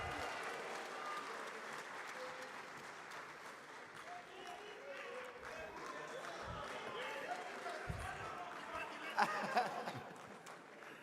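Audience applause at the Afreximbank Annual Meetings welcoming Ghanaian footballer Asamoah Gyan, a steady, fairly faint wash of clapping from a large hall crowd with scattered voices and a few louder thumps near the end.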